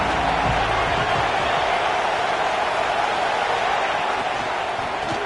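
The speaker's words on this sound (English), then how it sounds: "This crowd ready to make its presence known." Dense, roaring stadium crowd at a football game, a continuous loud wash of voices with a commentator talking over it.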